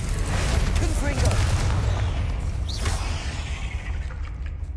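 A Confringo blasting curse explodes in the Hogwarts Legacy video game on PlayStation, a dense rumbling boom with crackling bursts that holds steady and loud throughout, mixed with other game sounds.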